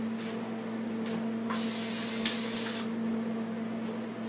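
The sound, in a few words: cooking spray on pan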